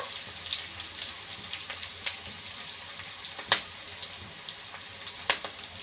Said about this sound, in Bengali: কাঁচা লঙ্কা কুচে রেখেছিলাম দিয়ে দেব দিয়ে আবার একটু বেশ ভালো করে নেড়ে চেড়ে নেব